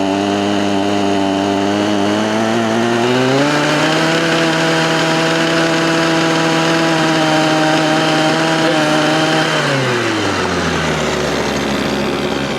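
A Redmax HTZ2460 hedge trimmer engine runs partly choked, a loud, close, buzzing drone that revs up after a few seconds, holds a high steady pitch, then sags back down near the end.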